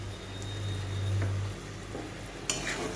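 Prawn curry base with a spoonful of tomato ketchup being stirred in a pan for chingri macher rosha, a soft, low scraping and faint sizzle with a brief clink of the spoon near the end, no talking.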